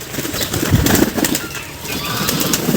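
A flurry of wings beats close by as several pigeons flap in to land for food, soft repeated whooshes with rustling between.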